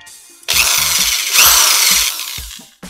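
A power grinder bursts on and off while blending the intake ports of a Small Block Chevy Vortec cylinder head, several loud whining passes with short pauses between them.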